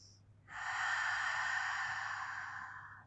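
One long, steady breath drawn in during a Pilates back stretch, a soft airy hiss held for a few seconds, quiet and close.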